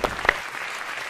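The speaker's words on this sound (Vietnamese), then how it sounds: "Vỗ tay." A brief burst of clapping from a small group that quickly fades out.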